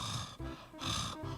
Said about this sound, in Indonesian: ngorok ya